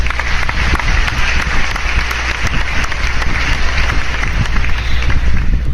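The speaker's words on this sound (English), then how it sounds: "can we take a moment to applaud Aunt Polly for taking Tom into her care when his parents died?" A large crowd applauding, loud and dense clapping that runs continuously at full strength from start to finish.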